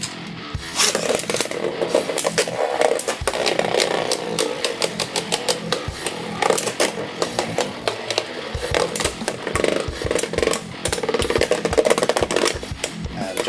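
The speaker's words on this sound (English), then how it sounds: "Finally, I'm going to put it up against this Junkyard X Beyblade and see how it does." Metal Beyblade spinning tops, a Driger S against a Junkyard X, battle in a stadium with a continuous whirring scrape and dense rapid clacks and clinks of collisions throughout, loud and close.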